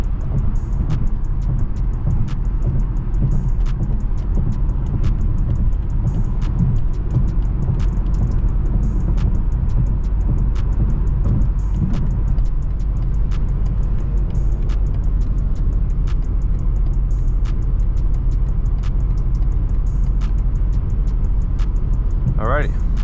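A 2022 BMW 750i cruises through slow night traffic with a steady low engine and road rumble, and a faint regular ticking runs underneath.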